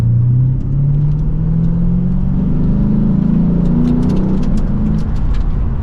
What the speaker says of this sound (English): We'll give it some gas.